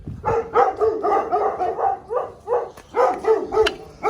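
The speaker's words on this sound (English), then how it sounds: "These neighbor doggos are excited to have some new friends around." Excited neighbor dogs bark repeatedly in a backyard near a pool, a steady run of close, loud woofs and yips with short gaps between them.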